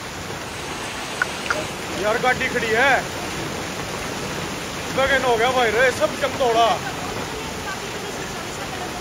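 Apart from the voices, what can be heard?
heavy rain pouring down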